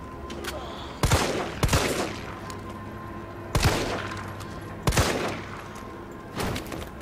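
Gunfire in the Resident Evil 3 Remake video game, with several spaced shots booming out over a low ambient game background and someone talking quietly in between.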